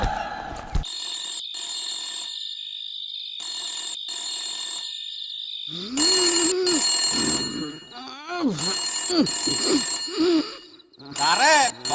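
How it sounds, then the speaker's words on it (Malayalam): Telephone ringing in repeated bursts of bright electronic trills with short gaps between them, while people talk over the later rings. "ഫോൺ അടിക്കണു"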